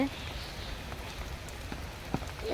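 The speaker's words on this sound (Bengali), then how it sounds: "বৃষ্টি হচ্ছে।" Rain falls on a street, a steady close patter of drops spread evenly throughout with a few slightly louder taps, and no other clear sounds over it.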